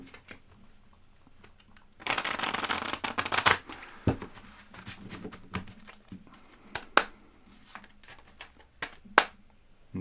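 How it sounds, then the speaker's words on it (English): Tarot cards are riffled in a dense burst of papery flutter, followed by scattered soft taps, slides and snaps as the deck is handled. "I'm going to give these a shuffle"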